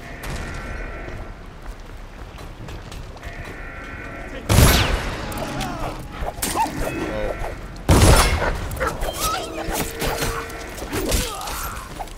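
Two loud, sharp grenade blasts in the Dishonored game, a few seconds apart, each a sudden booming hit with crackling debris trailing off, amid ongoing combat noise and someone talking.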